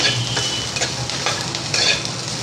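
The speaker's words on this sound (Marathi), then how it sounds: "आता त्याच्यामध्ये हे लसूण घालते, आलं घालते थोडंसं, ते पण आपण परतवून घ्यायचं आहे" Garlic and ginger sautéing in a pan for spicy misal, a steady close sizzle broken by repeated scraping stirs of a utensil, loud and without talk.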